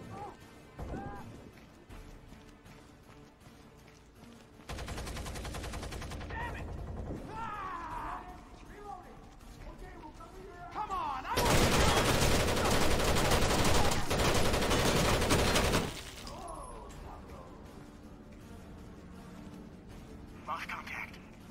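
Light machine gun fire in the video game Rainbow Six Vegas 2 comes in two long, loud sustained bursts of rapid shots, with speech and other game sounds between them.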